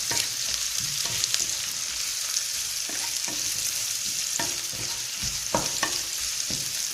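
Carrots fry in a pan for a pumpkin English stew, giving a steady close sizzle with scraping clicks and knocks as a utensil stirs them now and then.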